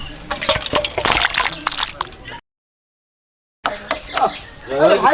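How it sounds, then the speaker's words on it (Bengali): Leftover meat curry is poured into a bowl in a kitchen, with wet pouring and sloshing before and after a brief gap of silence, close by, alongside faint voices. "তরকারিটা ঢেলে দিচ্ছি"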